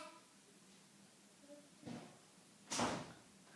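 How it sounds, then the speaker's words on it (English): An indoor door is closed in two soft knocks: a low thud near 1.9 s, then a louder, sharper bang near 2.8 s, with faint background noise around them. "Close the door."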